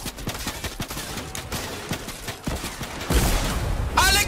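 Gunfire and RPG shots in a Minecraft shooter map ring out as rapid cracking bursts, building into a louder, dense barrage toward the end.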